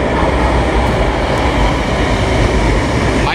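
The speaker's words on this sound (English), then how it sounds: "My train is arriving, so I'll buckle up." An LRT-1 light rail train pulling into a station in Manila, a steady loud rumble and rolling roar of wheels and motors up close, with faint high squeals, and no talk.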